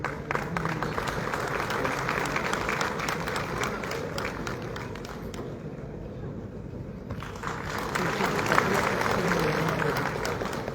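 An audience at an award ceremony claps in sustained, dense applause, dipping briefly midway before swelling again, a large crowd heard from within the hall.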